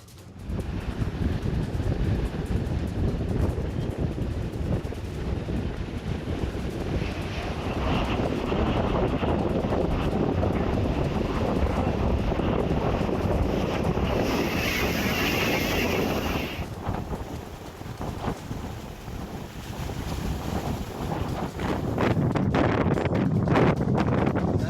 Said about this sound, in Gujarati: પોરબંદરનો દરિયો ગાંડો તૂર બન્યો